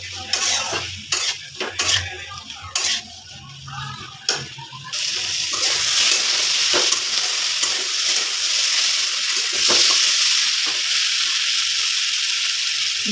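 Fried potatoes and cucumber stirred in a hot pan, a steady loud sizzle filling the background while a utensil scrapes and clinks against the metal in irregular strokes, busiest in the first few seconds.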